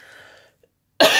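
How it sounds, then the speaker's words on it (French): Quiet murmuring fades to silence, followed by a sudden, loud, close-up cough at the end. "Je n'arrête plus de tousser."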